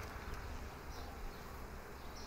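Honey bees hum around an open hive during spring colony expansion, a soft, steady buzzing drone close by that continues without pause, with no one talking.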